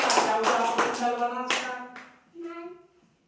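Children in a classroom clapping their hands in a brisk run of loud, close claps, followed by a sung or chanted vocal line near the end.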